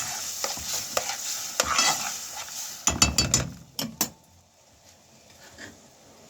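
Onions softened in a pan with tomatoes added get stirred, scraping and clinking against the metal over a low sizzle, with a cluster of sharp utensil knocks midway before things quiet down.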